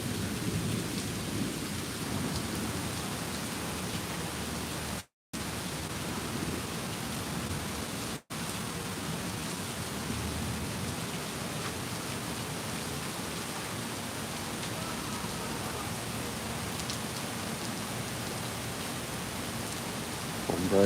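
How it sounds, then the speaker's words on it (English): Heavy rain pours steadily at a Disney theme park during a thunderstorm, a dense continuous roar with low distant thunder rumbling beneath, close and unbroken for the whole stretch. "And the thunder does sound a bit further away now."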